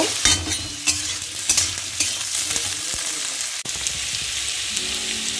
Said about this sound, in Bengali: এখন আমি আলু আর কাঁঠালটা দিয়ে দিচ্ছি, একটু উল্টে পাল্টে করে নাড়াচাড়া উল্টে পাল্টে দেব।